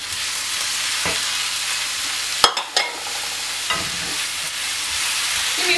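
Onion and bell pepper frying in a pan: a constant soft sizzle, punctuated by a few sharp clanks and scrapes of a utensil against the pan, close up and free of talk.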